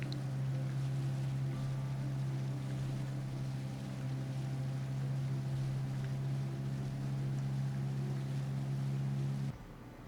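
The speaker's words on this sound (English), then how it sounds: "I love how the engine sound just drops out sometimes." A boat engine in the fishing video game Bass Pro Shops Trophy Bass 2007 drones at a low, steady pitch, loud and constant, then abruptly cuts out near the end, leaving quieter background sound.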